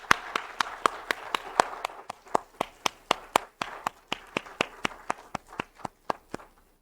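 Steady, evenly spaced hand claps from a church congregation at a Sunday worship service, about three per second in unison, crisp and fairly close with no talk over them.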